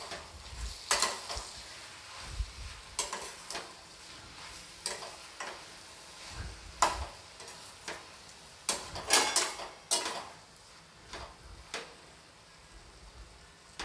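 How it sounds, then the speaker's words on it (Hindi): Cooking tomatoes are stirred in a pan for shahi paneer, with repeated scraping and clattering spoon strokes over a faint sizzle, the strokes coming in irregular bursts with short pauses between them. "अब मैं इसे एक बार चला दूंगी।"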